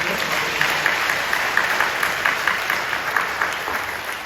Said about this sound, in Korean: 격려하며 박수 주시죠.